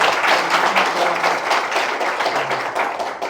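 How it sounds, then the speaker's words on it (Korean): An audience at a basic income lecture and launch event in Hwaseong gives a professor a round of applause, with brisk, fairly close clapping that gradually thins out. "네, 약 주신 정교순 교수님께 다시 한번 큰 박수 좀 부탁드립니다."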